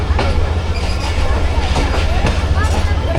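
Rehman Baba Express (47 UP) passenger train in motion between Karachi and Rohri, a steady low rumble of rolling wagons with faint clatter throughout, talk running over it.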